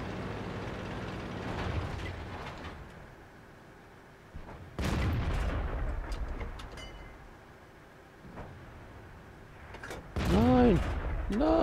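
Tank cannon fire in World of Tanks from a Soviet Rudy tank positioned between houses. Two heavy booming shots land several seconds apart, each with a rumbling tail, over a low background of engine rumble and game ambience.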